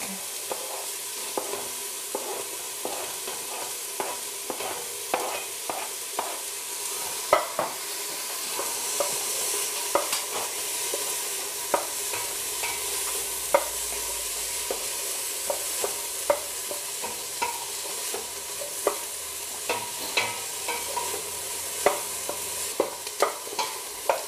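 Garlic frying in a saucepan and being stirred: a steady close sizzle with repeated scraping stir clicks throughout, no voices.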